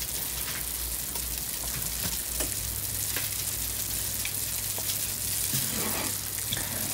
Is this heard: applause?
no